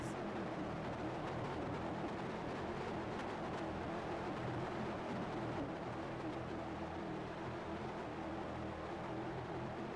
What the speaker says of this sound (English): Alpha's car is messing me up. It sounds different than everybody else's.